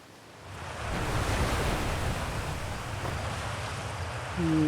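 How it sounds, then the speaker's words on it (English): Water belching out in the video game Outer Wilds, a broad rushing surge that builds from quiet to a steady loud roar like crashing surf, with a low tonal hum entering near the end. "Is this the one that's belching water?"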